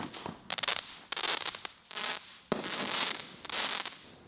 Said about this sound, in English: 2 crackling mines at a lower level, then 2 chrysanthemum breaks and 2 delayed crackling.